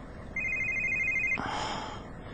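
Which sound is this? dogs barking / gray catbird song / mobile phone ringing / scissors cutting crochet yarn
mobile phone ringing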